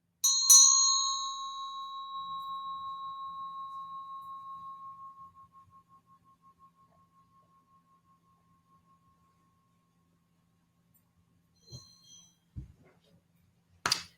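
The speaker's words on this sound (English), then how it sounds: "I will ring a bell, set an aspiration," A meditation bell struck once at the start of a guided meditation, a clear ringing tone that sustains and slowly fades over several seconds, followed by quiet and a few faint rustles and clicks.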